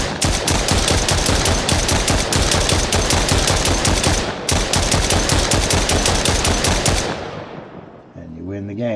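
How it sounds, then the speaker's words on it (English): Rapid automatic gunfire from a zombie-shooting video game prototype, a dense relentless stream of loud shots with a brief pause midway, cutting off near the end into a low rumbling tone. "You can keep putting bullets in them into their death"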